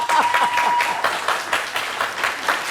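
Studio audience on a comedy TV show clapping steadily and briskly, a close, continuous burst of many hands with a faint tone running underneath early on.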